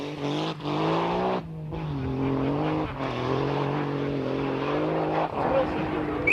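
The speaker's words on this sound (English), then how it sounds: "The big Cosworth is followed immediately by the little Daihatsu of Terry Cabey and Kevin Gormley." Rally cars from the 1990 Circuit of Ireland Rally, a big Ford Sapphire Cosworth followed at once by a little Daihatsu, engines droning and revving as they pass close by in quick succession, with brief gear-change dips.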